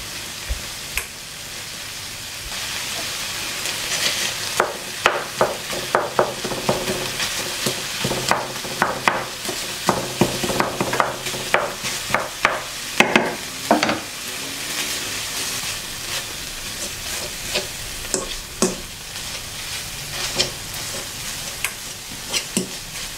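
A spoon mashes cooking food in a saucepan on the stove, with repeated sharp scraping and clacking strokes against the pan over a steady sizzle, close and fairly loud.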